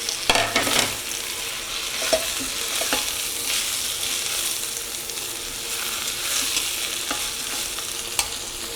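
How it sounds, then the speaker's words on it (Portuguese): Steady sizzling of rice and lentils sautéing in a pan aboard a boat, with occasional scraping and stirring clicks of a utensil. "Continuo refogando aqui."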